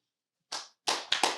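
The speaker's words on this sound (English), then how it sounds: "Clap." A few sharp hand claps ring out close and clear in a quiet room, one single clap followed by a quick cluster of three or four.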